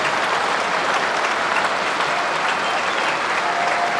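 Spectators at a Test match cricket ground, England v New Zealand at Trent Bridge, applauding in a dense, sustained wave of clapping that stays loud and even from start to finish.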